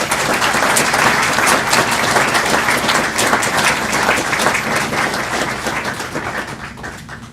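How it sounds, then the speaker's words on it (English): Audience at a school board meeting applauds a high school chorus director, dense sustained clapping that stays loud and slowly tapers near the end. "So let's give a big round of applause."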